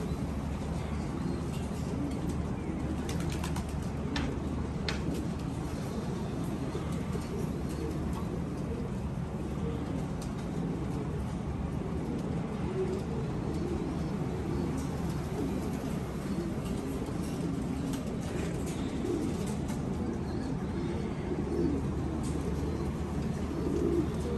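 Low, continuous cooing of pigeons in a dense, steady chorus, with soft flutters and occasional faint chirps throughout.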